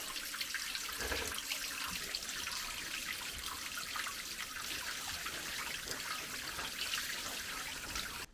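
Water flows steadily from a holy spring beside a cave monastery on a rock, a faint continuous trickle and splash with no talking over it.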